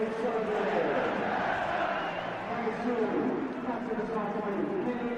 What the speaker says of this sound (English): it's fitting that he's greeted by a capacity crowd